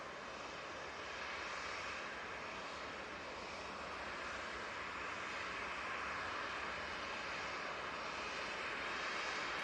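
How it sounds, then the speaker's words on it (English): An EasyJet airliner inbound from Milan Linate roars over Manchester Airport in a continuous, rising and falling broadband engine wash heard from some distance. "EasyJet's coming in from Milan Linate now."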